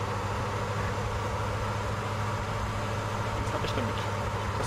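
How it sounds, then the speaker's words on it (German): A car engine running in the survival video game DayZ, a loud steady low rumble and drone filling the whole stretch, with no clear speech over it. "da das Auto so laut ist"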